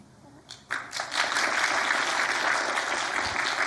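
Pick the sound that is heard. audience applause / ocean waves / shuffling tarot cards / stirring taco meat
audience applause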